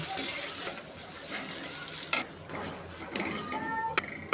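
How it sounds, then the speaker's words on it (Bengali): Pumpkin peel bhorta sizzles and fries in a pan with stirring, a steady crackling hiss broken by a few scraping and clinking pan sounds, close and fairly loud. "কত সুন্দর করে আমি ভর্তাটা বাগার দিয়ে নিলাম"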